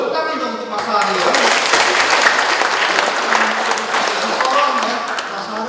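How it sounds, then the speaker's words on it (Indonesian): A crowd applauds loudly and steadily, a dense wash of clapping that holds for several seconds before easing slightly. "Tepuk tangan dong untuk Mas Ari ya."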